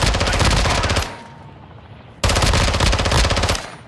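Bots firing in the Call of Duty DMZ video game, two loud, close, rapid automatic bursts of about a second each, separated by a short quieter gap.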